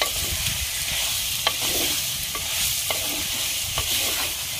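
A spoon stirs mutton curry in a pan over a village wood-fired stove, with scattered scraping strokes over a low, steady sizzle at close range.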